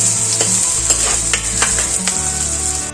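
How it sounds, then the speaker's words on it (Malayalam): Chopped shallots sautéing in hot coconut oil for a chicken curry, a loud continuous sizzle with a few scraping stirs of the spoon. "ഉള്ളി ഒന്ന് ചെറുതായി ബ്രൗൺ കളർ ആവുന്നത് വരെ"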